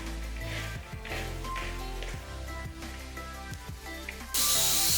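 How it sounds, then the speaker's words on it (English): Cooking spray bursts into a pan as a loud, steady hiss near the end, following quieter kitchen handling sounds. "Spray this, spray that, we don't want it sticking."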